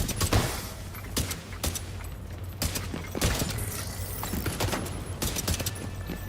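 Video game gunfire as a player shoots an enemy, sharp repeated shots in an irregular volley over a steady low rumble of game ambience, fairly loud and close with no talking.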